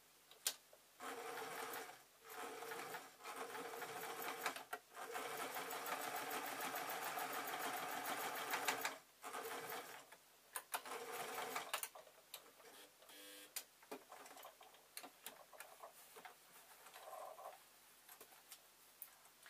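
A sewing machine runs a line of stitches across a fabric owl in quick, rapid bursts of rattling stitching, stopping and starting with short pauses between runs, close and alone.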